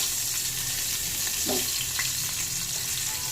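Hilsa fish with slit green chillies and nigella seeds fries in a pan with a constant, gentle sizzle, marked by a brief scrape of stirring near the middle.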